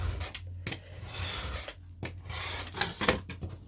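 Scissors cutting paper and cardboard for a Japanese-themed Stamperia scrapbook album, close, dry snipping and rasping cuts in a few short bursts.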